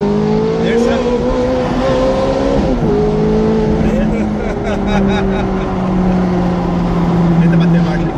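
Ferrari sports car on a test drive, its engine loud and close as it revs and pulls through the gears, pitch climbing then dropping at a shift before rising again, with steady road roar underneath.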